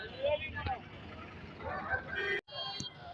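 Native chickens cluck and squawk at a busy Ongole country chicken market, with bird calls and honking cries over crowd murmur and voices, briefly cut off near the end.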